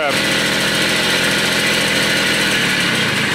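An old moped, about 32 years old, idles roughly just after a cold start with the choke still on, its small engine running loud and close with a steady buzzing drone that never settles, and no talk over it.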